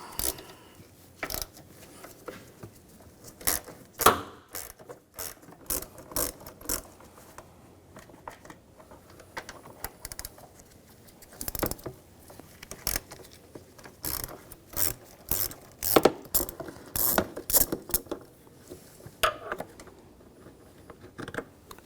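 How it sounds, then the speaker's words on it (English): A ratchet with a 10mm socket backs bolts out on a 2007-2013 BMW X5 3.0L inline-six during high pressure fuel pump replacement, giving repeated bursts of sharp clicking close by with short pauses between them. "Now we're going to take these two bolts out, use a 10mm socket."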